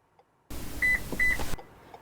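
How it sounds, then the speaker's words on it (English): Two short, clear electronic beeps from a 2014–2019 Toyota Highlander confirming new key programming, in quick succession over a low steady hum, with quiet surroundings before and after. "Vehicle beeped twice, and it gives us a programming success notice."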